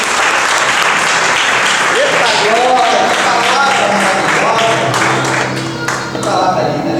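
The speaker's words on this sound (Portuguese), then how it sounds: "Aplauda Jesus pela sua vida aqui hoje." A church congregation applauds with dense, steady clapping that fills the space throughout, with some voices and music rising beneath it.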